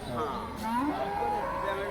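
A buffalo lets out a drawn-out, wavering moo at a busy livestock market, close and fairly loud, with background voices underneath.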